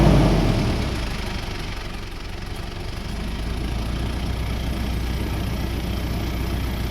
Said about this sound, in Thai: เร่งเครื่องแอร์ตัดนะครับ